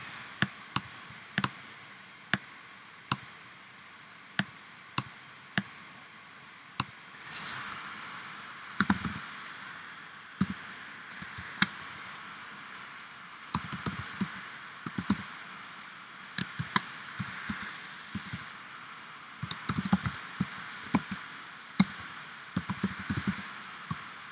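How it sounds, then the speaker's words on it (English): Fingers tap out keystrokes on a computer keyboard, producing quiet, irregular clicks that come singly at first and then in quicker clusters, heard close with nothing else going on. "let's type it in manually."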